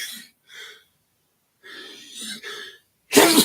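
A single sharp sneeze bursts out at the end after a few soft, quiet breaths and small throaty sounds, close and abrupt.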